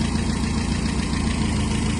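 A Mazda B2000 engine runs on a newly installed Weber carburetor and a vacuum leak, producing a steady, close, loud idle with an even low throb and no voices.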